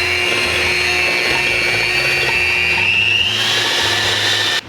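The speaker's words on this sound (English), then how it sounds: "we're gonna whisk this until we get a stiff peak. So we have a hand mixer" A hand mixer whisks heavy whipping cream toward stiff peaks, its motor whining steadily and loudly up close for several seconds before cutting off abruptly.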